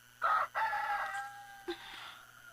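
Close, clear rooster crow rising and then trailing off in a long falling call, with a brief cluck near the end against a quiet background.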